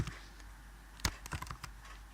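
Typing on a computer keyboard: a short run of quiet, close key clicks at an uneven pace, with one sharper tap standing out over a steady low hum.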